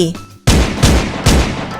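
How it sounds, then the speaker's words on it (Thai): Three loud, booming gunshots fire in quick succession, each followed by a short rolling echo, after a brief moment of voice. "เสียงปืนดังขึ้นสามนัด"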